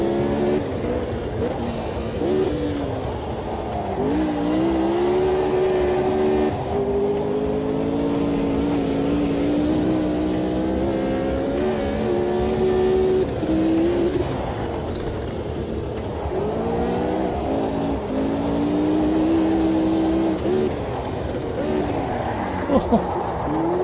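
Historic open-wheel race car in Automobilista 2, its engine revving and dropping repeatedly as the throttle is feathered through the first turn, a steady loud drone with rising and falling pitch sweeps throughout.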